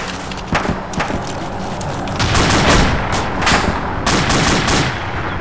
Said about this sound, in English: You've got 50 cal whizzing over your head